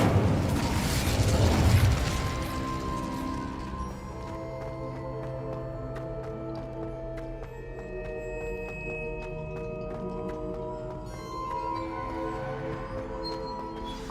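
A fiery spell blast in the video game Hogwarts Legacy, a loud burst at the start that rolls off into a sustained tonal magical hum and shimmering ring, with no talking.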